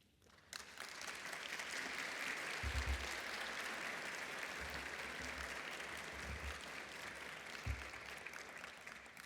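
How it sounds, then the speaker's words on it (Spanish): Audience applause at a judicial cooperation opening ceremony, a sustained, dense clapping from a large indoor crowd that starts suddenly and holds steady throughout, with occasional low thumps beneath. "me voy a quedar con ese aplauso para ya terminar"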